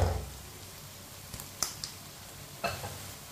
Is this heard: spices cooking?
yes